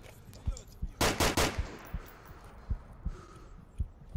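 Gunfire in the VR shooter game Onward: a rapid burst of automatic fire in the middle, surrounded by scattered single shots and thuds that are moderately loud, with no talk over it.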